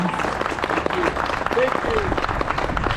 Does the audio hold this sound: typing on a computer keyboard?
no